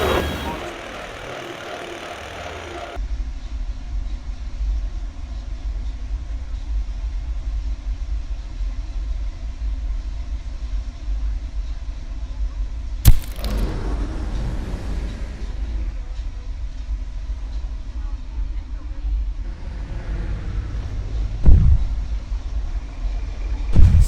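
A ghost train ride at Thorpe Park rumbles through its tunnel, a steady loud low drone with engine-like roar, a sharp bang partway through and scattered clatters near the end.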